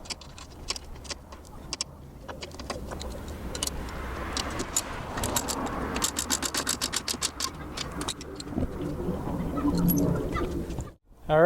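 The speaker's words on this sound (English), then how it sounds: "now we're going to start putting our clamps on to secure it up" Metal clamps being fitted and tightened onto an aluminium solar panel frame during a rooftop install, giving a scatter of sharp clicks, ratcheting and metallic taps through an ongoing mechanical clatter.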